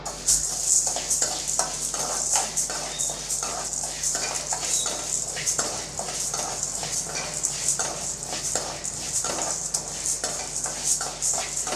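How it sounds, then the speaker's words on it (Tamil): Chana dal and lentils dry-roasted in a pan over medium flame for idli podi, with a steady close rustling and light scraping of a spatula, continuous and moderately loud. "இப்போ ரெண்டையும் நல்லா செவக்க வறுத்து விட்டுக்கலாம்"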